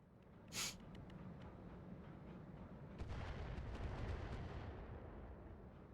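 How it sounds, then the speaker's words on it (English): Mars artillery barrage from an ultralight Mars carrier in a video game, a sharp blast followed by a sustained rumbling volley of impacts, moderately loud with no voices. "that was the Mars artillery from the ultralight Mars carrier my ally brought"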